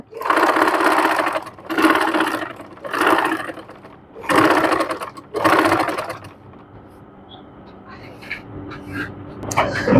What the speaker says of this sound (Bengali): এখন আমি এই সেলাই অনুযায়ী আমি এটাকে সেলাই দিয়ে নিব সেলাই দিয়ে দুটি পার্ট একসাথে করে নিব